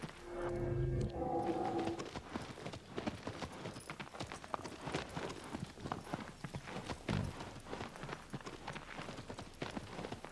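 Horse hooves clip-clop at a steady trotting pace in the 2018 Shadow of the Colossus game, moderately close, with a few heavier thuds early on and no speech.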